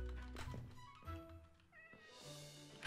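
A cat in a video game meows several times in close succession, loud and near, with drawn-out whiny calls and a soft thump in between.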